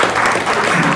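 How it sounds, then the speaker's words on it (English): An audience at a networking panel event bursts into steady, dense applause that fills the room continuously and loudly. "You guys can give them a round of applause."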